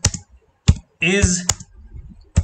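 A user name is typed on a computer keyboard in a few sparse, sharp key clicks spread apart, with a short stretch of voice between them.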